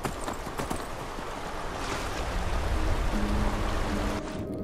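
Horse hooves clopping and splashing through a river in Skyrim, a steady run of watery steps over a continuous rushing wash of water, fairly loud and close with no talk.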